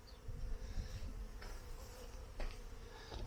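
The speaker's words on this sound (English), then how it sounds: "There's your bees. There's more than one beehive around here." Bees hum around hives at an abandoned homestead in rural South West Victoria, Australia, a soft, steady outdoor drone that swells slightly in places and carries no talk.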